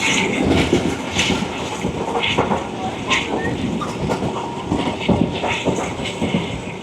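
The Rawal Express train rolls steadily through Kaluwal station with rhythmic rail clatter and rumbling wheels, a continuous loud mechanical noise with occasional squeals.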